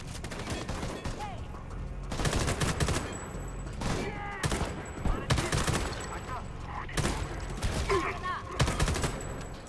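Gunfire from Homefront: The Revolution crackles in repeated loud bursts and rapid volleys as a player shoots through a wall, with the player talking between the shots.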